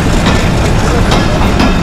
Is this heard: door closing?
no